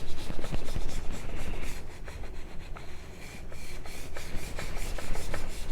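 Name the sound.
knife edge polished on a Morihei sharpening stone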